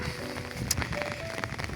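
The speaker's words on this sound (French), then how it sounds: "il pleut depuis 13 heures non-stop de façon modérée" Moderate rain falls steadily in a Mediterranean-climate downpour, a soft, continuous hiss of drops on surfaces with faint scattered taps, fairly quiet and unbroken throughout.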